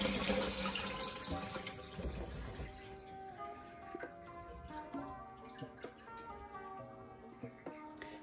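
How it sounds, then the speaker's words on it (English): Water pours off boiled potatoes from a pot, a continuous splashing stream that is loud at first and then thins into a quieter trickle with scattered drips. "So we're just gonna pour off the water."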